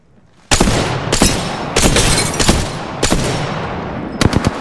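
Bursts of automatic gunfire in an Apex Legends firefight, several loud sustained volleys with short gaps and a pair of sharp shots at the end, no talking.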